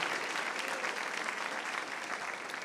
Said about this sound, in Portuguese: vai aplaudir, aplauda forte